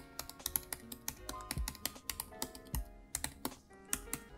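Fingers type a password on a computer keyboard in a quick, uneven run of close, crisp key clicks with no talking.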